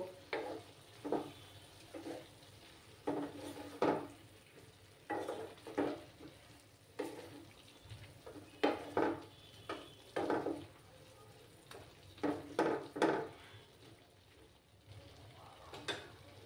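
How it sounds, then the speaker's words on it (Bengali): Flat beans stir-fried with spice paste in a pan for a vegetarian dish, soft sizzling under repeated scraping stirs that come in irregular bursts, fairly quiet and close. "দিয়ে এবার শিমের সঙ্গে মশলাটাকে ভালো করে কষিয়ে নেব"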